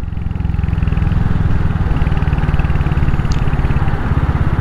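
Royal Enfield Hunter 350 single-cylinder motorcycle engine running on a steep hill, a loud, close, steady thumping putter with a strong low pulsing beat that holds even throughout.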